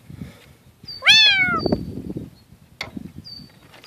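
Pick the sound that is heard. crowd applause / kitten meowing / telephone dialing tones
kitten meowing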